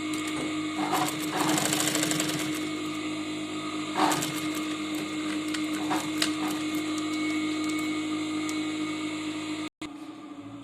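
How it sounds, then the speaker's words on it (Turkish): A sewing machine stitches extra lines through a fabric appliqué, running as a steady mechanical whir with faint bursts of needle clatter throughout, close and continuous with no talking, briefly cutting out near the end. "desenlerimin ortalarından yani kenara yakın yerlerinden birer daha dikiş dikmek istiyorum"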